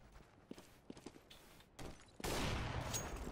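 Gunfire in Counter-Strike: Global Offensive, scattered single shots and footsteps at first, then a sudden loud sustained burst of rapid fire filling the final second.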